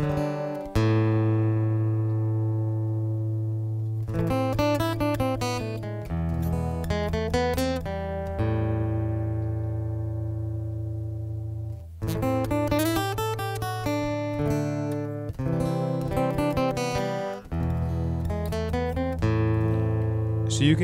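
Acoustic guitar played through a Boss AD-10 preamp while its EQ is changed, with sustained strummed chords and ringing single notes in phrases, up close and alone, the tone shifting between passages.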